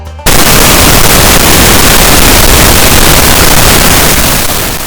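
A cartoon-style explosion sound effect bursts in suddenly, a very loud, dense roaring blast that stays at full force for several seconds before slowly fading, with no speech.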